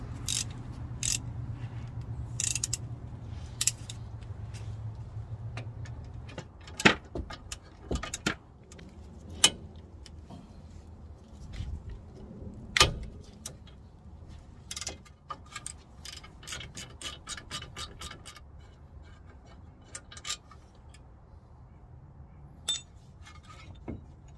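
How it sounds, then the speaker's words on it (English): A wrench and ratchet work on the 17 mm caliper bolts of a 2008–17 Mitsubishi Lancer/Outlander. Quiet, scattered metallic clicks and knocks build into a quick run of ratcheting ticks, with no talking. "so next we're gonna take out the caliper"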